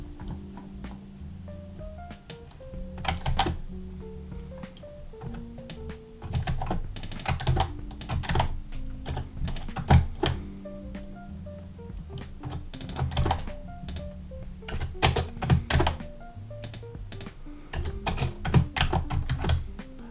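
Steady computer keyboard typing while code is written for a Flutter app, irregular bursts of close, crisp key clicks with short pauses, alone with no talking.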